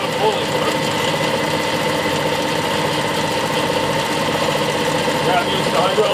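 A Clausing lathe with a variable speed pulley drive runs at a steady, humming mechanical drone, close and constant, with a faint rattling texture and no pauses.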